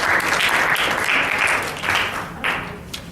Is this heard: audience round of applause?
yes